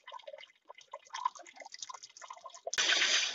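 Water drains from the coolant system of a VW Golf 2 during a flush. Scattered small drips patter for a few seconds before a sudden louder gush of splashing water close by.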